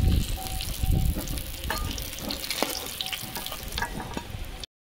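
Catla fish pieces fry in oil for a Bengali doi katla dish, giving a loud, close, continuous crackling sizzle with occasional spatula scrapes.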